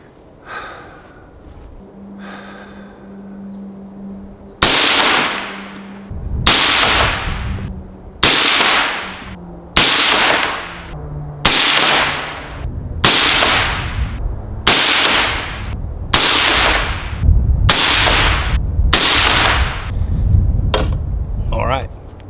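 A rifle fires a series of shots at a target during group-size testing. About a dozen loud, sharp cracks come at a fairly even pace, roughly one every second and a half, and each leaves a short decaying echo. A low hum sits underneath.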